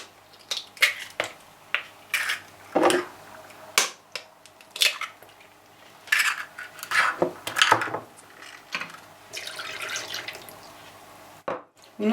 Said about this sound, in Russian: Смешиваем в миске сначала жидкие продукты,